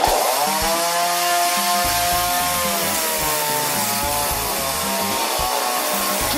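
A chainsaw runs nearby without a break, its buzzing engine revving and dropping in pitch over and over in a loud, harsh drone.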